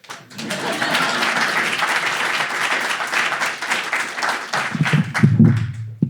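Sustained audience applause at a public talk on polarization, a dense steady clatter of many hands from a crowd, fairly loud and continuous for several seconds before tapering.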